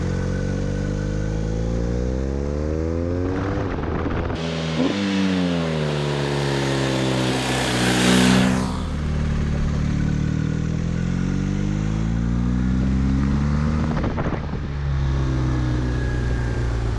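A 2019 BMW R1250R naked motorcycle's boxer engine revs and pulls through the gears while riding toward twisty roads, rising and falling pitch with shift breaks, loud and close over wind noise.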